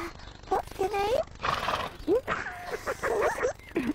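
A pony being introduced for a riding lesson whinnies in rising, squealing calls up close, interleaved with people chatting over it.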